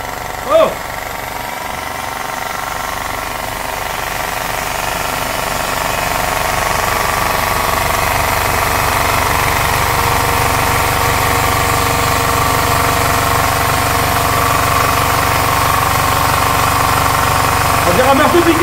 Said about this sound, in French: On dirait un marteau piqueur quoi! Il fait sauter la table et tout, wow!